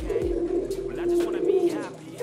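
Pigeons coo softly and repeatedly at close range, a low rounded warble running steadily throughout.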